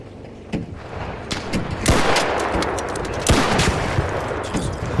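Rapid gunfire crackles in the Arc Raiders video game, with bursts of automatic shots and sharp single reports coming in repeated waves over a dense, continuous backdrop of battle noise.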